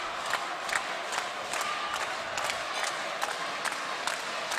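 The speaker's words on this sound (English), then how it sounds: "the crowd just starts to pick up once more" A boxing arena crowd at a junior European championship final in Tbilisi keeps up a steady roar, with rising cheers and whoops layered over a constant hum as fighters step into the centre of the ring.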